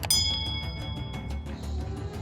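A bright notification bell chimes a single clear ding at the start, its ringing tone fading over about two seconds above a low musical bed.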